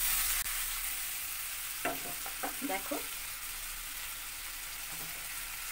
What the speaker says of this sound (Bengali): কড়াটাকে ঝাঁকিয়ে আমি উল্টিয়েছি